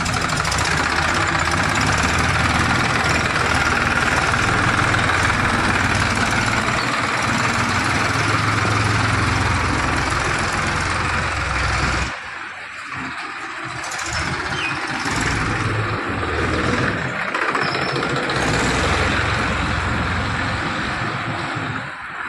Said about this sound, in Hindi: ये राजस्थानी का ट्रैक्टर चालू है